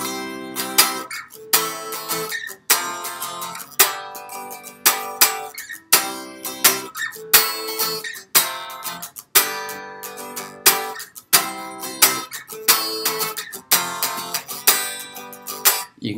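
Unplugged guitar strummed through a 1950s-style chord progression, close and loud, in regular bursts of strums with short gaps between chord changes, played alone without voices.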